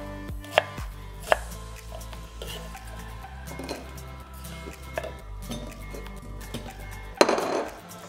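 A knife roughly chopping vegetables for Tafelspitz, a German tenderly cooked beef dish, on a cutting board: scattered, irregular chops with a few sharper knocks, close and moderately loud, over low background hum and no talk.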